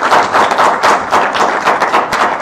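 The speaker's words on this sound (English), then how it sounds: "let's give a round of applause for these two" Audience applause at a Python user group meetup, a steady dense patter of many hands clapping close by, with loud irregular bursts throughout.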